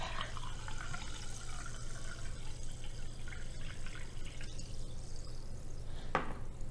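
Sparkling water pours and fizzes in a steady, close liquid hiss and trickle for several seconds, ending with a faint clink.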